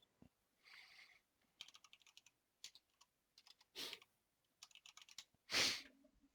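Computer keyboard typing in irregular bursts of clicks and short runs of keystrokes, fairly close, with a few louder swishy noises between them and no talking.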